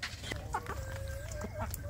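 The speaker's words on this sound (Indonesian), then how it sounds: "Ini anak ayam kampung ramai sekali ini ya." Free-range village chickens and their chicks cluck in a steady, busy chorus, thin chirps and short clucks overlapping close by over a constant low farmyard rumble.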